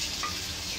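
Fried rice stir-fried in a pan gives a brief, steady sizzle with a soft scraping stir, close and moderately loud.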